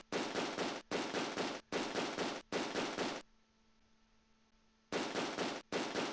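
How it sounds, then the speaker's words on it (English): Close Combat II wartime battle game with long, loud bursts of automatic rifle fire, about four sustained volleys separated by short breaks, then a quiet pause before two more bursts. "Whatever rifle squad or BAR, whatever's shooting at us, like, they gotta run out of ammo soon, right? Like, they're non-stop."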